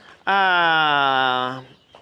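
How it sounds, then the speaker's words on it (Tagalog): A single loud, drawn-out chicken call rings out for over a second, harmonic and slightly wavering, like a rooster's crow, then cuts off. "Ayun, nakikita ko ang daming manok, oh."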